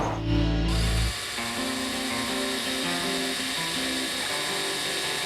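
Power drill boring holes into a PRS-style guitar kit body, a steady loud whir that starts after a brief low rumble and runs continuously to the end, with no speech.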